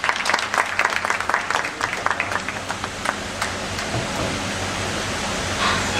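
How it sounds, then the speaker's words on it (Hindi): Applause greets a speaker at an inaugural session on environment and sustainability, with crisp individual claps at first that blend into a fading wash of clapping, no talking over it. "आपसे निवेदन है कि तालियों के साथ आपका स्वागत करें"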